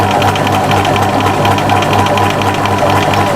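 A sewing machine stitching appliqué fabric for a cushion, a fast steady mechanical whir with rapid rhythmic needle clatter, close and loud, running continuously without pause.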